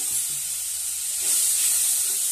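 Chilli and turmeric powder sauté with a splash of water in a pan for a pumpkin and potato curry, making a loud, continuous steamy hiss that swells slightly partway through, with no voices.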